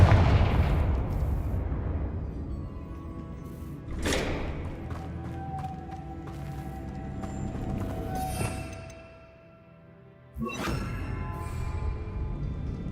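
Confringo blasting spell explosions in the video game Hogwarts Legacy, three loud booming blasts spaced a few seconds apart over rumbling game ambience.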